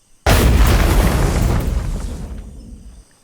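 One sudden, very loud explosion booms out and then rumbles away over a few seconds.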